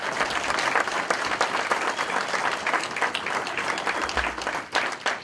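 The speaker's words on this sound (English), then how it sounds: "How about a great round of applause for Hayden Fry?" A seated audience applauds Hayden Fry at a college football bowl legends gathering, with dense, steady clapping that holds at full strength for several seconds and eases only slightly near the end.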